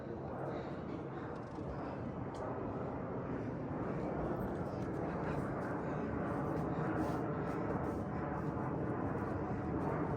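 A steady, broad roar like a distant airplane passing overhead, continuous and fairly loud throughout, with faint voices beneath it.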